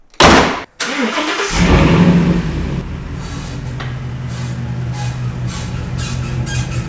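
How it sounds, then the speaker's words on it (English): A first-generation Ford Raptor pickup truck engine with 180,000 miles cranks and turns over, then settles into a steady idle and rumbles as it pulls out of a garage, fairly close and loud. "when I started the truck and pulled out of my garage"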